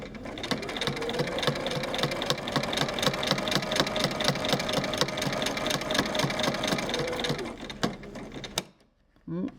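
A sewing machine runs steadily while stitching quilt binding, a close rhythmic mechanical whirr with a regular needle clatter that continues for most of the time before stopping near the end.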